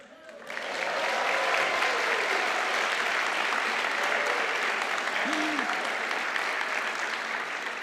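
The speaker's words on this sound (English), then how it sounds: "give rousing applause and cheers as we go through the ceremony, and you might have a little practice now" Rousing applause and cheering from a university winter graduation audience fills a large hall, starting abruptly and holding steady and dense for several seconds, with some voices mixed into the crowd noise.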